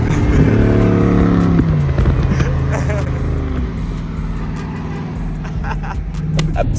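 Jeep SRT engine droning steadily while driving, a loud continuous rumble with shifting pitch as it pulls along.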